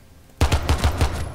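A rapid burst of gunfire in Rainbow Six Siege, about half a dozen close, punchy shots in just over a second, the rhythm easing slightly toward the end.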